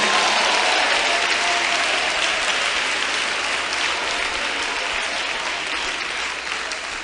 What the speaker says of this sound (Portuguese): Mais palmas para louvar a Jesus.